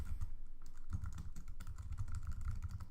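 Quiet typing on a computer keyboard while entering details into a web form, a quick irregular run of soft key clicks close to the mic.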